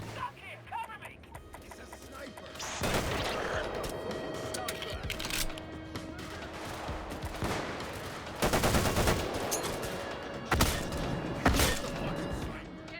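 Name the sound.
cluster grenade explosions and gunfire in video game Payday 3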